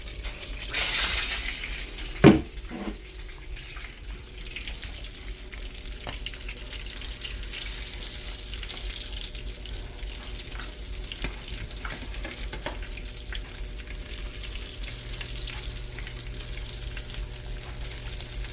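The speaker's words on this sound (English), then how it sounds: "you can definitely tell when the sizzling stops a bit" Steady crackling sizzle of trout frying in hot oil, close and continuous, with a sharp clatter early on and faint kitchen clinks.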